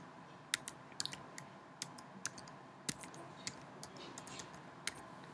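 Keys on a computer keyboard are typed while entering a case number, a quiet irregular run of sharp clicks spread across the whole stretch against faint room hum.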